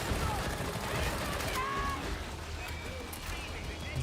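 A gun psyker empties a full magazine in Warhammer 40,000: Darktide, a rapid stream of shots over a busy, noisy combat mix.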